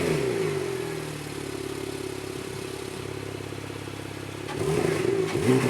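A 580 bhp Porsche 911 Turbo S drives along, its engine droning steadily from inside the cabin, the note dipping and then swelling louder as it accelerates near the end.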